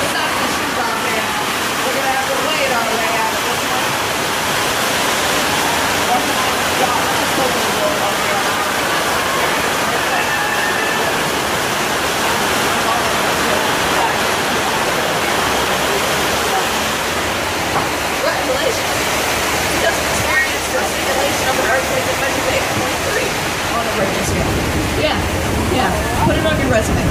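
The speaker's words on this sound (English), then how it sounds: "Y'all, that's the water main." A simulated burst water main floods a studio soundstage on a tour, giving a loud, steady rushing and splashing roar of pouring water that fills the space, with voices faintly underneath.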